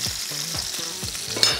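Food frying in a hot pan on a home kitchen stove, a steady close sizzle with crackling pops and light stirring clatter throughout, no voices.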